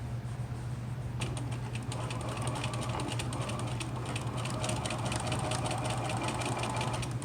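A sewing machine runs steadily, topstitching along the seam of a fabric face mask, with a rapid mechanical clatter over a constant motor hum that stays close and continuous throughout.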